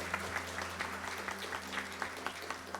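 Congregation at a Catholic mass clapping together in a steady, moderately quiet round of applause, with a low sustained hum underneath and no talk over it.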